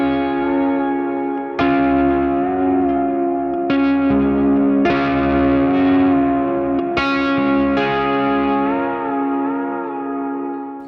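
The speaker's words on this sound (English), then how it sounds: "I've also started experimenting with bending behind my left hand to kind of get a more pedal steel sound" Lap steel guitar played with bends behind the fretting hand for a pedal-steel feel, through distortion, echo and chorus effects, sustained chords swelling and gliding in pitch, with new chords struck every couple of seconds and ringing out alone.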